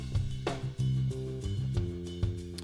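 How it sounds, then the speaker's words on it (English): A kick drum and bass line play together in a mix after EQ, with punchy low kick hits falling in an uneven rhythm around sustained bass notes, clear and moderately loud with no voices. "Notice that the bass now is really easy to listen to on its own,"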